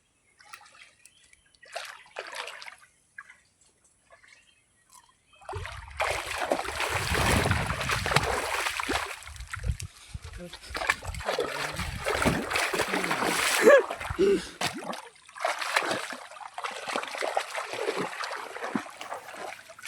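Water rushes in after a small earthen dam is broken open while fishing, a loud, continuous splashing and gurgling flow that starts abruptly after a few quiet seconds and keeps surging unevenly.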